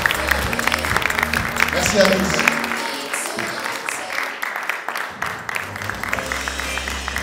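Audience at a circus comedy show applauds, a burst of clapping that thins out while a voice speaks over it, then the clapping picks up again.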